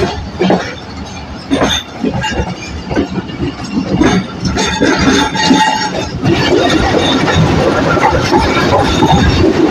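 A passenger train on the Rawalpindi to Lahore line pulls out of Chaklala station, wheels clattering and squealing on the rails as the rolling noise builds to a steady close roar.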